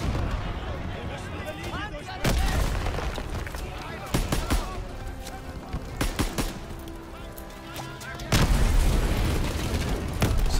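Cannon and gunfire in the video game Call of Duty: WW2 at the Remagen bridge, a chaotic battle bed of repeated heavy booms and bursts of shooting, with several loud blasts standing out over continuous combat noise.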